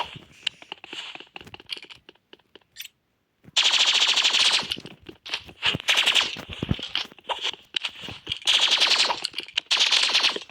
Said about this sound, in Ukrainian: якщо в тебе стріляють з тими пістолетами